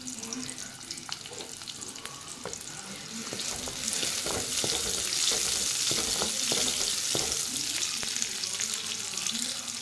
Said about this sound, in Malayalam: അപ്പോൾ നമുക്കിത് നന്നായിട്ടൊന്ന് ചുവക്കെ